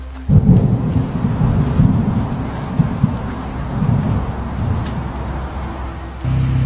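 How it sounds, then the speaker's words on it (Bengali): A cartoon sound effect of a thunderstorm in a Bengali horror story: a sudden loud thunder crash opens a sustained rumbling roar over steady rain, easing slightly before another surge near the end. "জয়চাঁদ আর দিনু মণ্ডল দুর্যোগ মাথায় করে বৃষ্টির মধ্যেই বাস ধরল তারা।"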